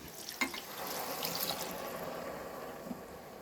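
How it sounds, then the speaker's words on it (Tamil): Water pours in a steady, splashing stream into a cooking pot with rice for tomato rice, nearby, continuous and fairly quiet, with no talking. "அப்போ 4 டம்ளர் தண்ணி ஊற்றிக்கோங்க."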